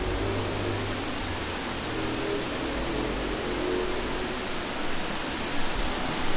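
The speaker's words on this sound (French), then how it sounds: "Une cascade là, petite." A small waterfall flowing near an abandoned guesthouse, a steady, dense broadband rush of falling water that stays even and moderately loud throughout, with no voices.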